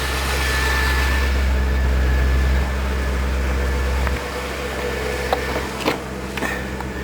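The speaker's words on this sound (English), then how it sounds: "She's idling on around about 1000 RPM" 1977 Mercedes 450SLC engine idling near 1000 RPM, a steady low hum that drops in level partway through, followed by faint clicks and small knocks, no voices.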